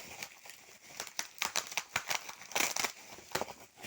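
Protective foil and foam padding are peeled off solar panels, giving close, irregular crinkling and crackling with quick tearing rustles throughout a few seconds.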